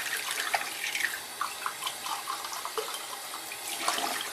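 Water runs steadily from a tap into a lab sink in a continuous splashing rush, close and fairly loud, with no talking over it.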